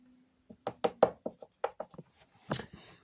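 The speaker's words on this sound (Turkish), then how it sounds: "kapı çaldı." Faint knocking on a door: a quick run of about a dozen light raps in an uneven rhythm, heard alone in an otherwise quiet room.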